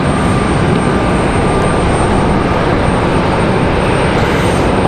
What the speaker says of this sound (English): the E190 here coming from Louisville, Kentucky for Breeze Airways